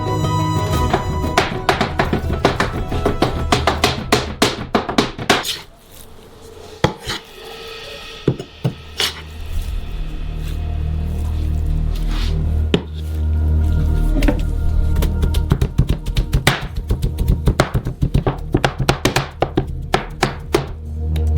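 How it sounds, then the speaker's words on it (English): Two hatchets chop raw chicken meat into mince on a board, a steady run of loud, close, fast knocking blows with a brief pause partway through, then the rapid chopping resumes. "With the help of 2 hatchets, we make some minced meat."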